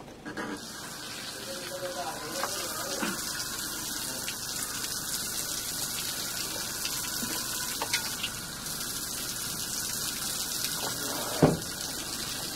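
Water from a tap runs steadily as a constant broadband hiss throughout, with occasional clinks and knocks and a brief louder thump near the end.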